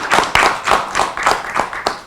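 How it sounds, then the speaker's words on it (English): A small group clapping in a brisk, uneven rhythm at a Board of Estimate and Apportionment meeting, close and loud, lasting a couple of seconds with no voices. "a round of applause for the budget department staff."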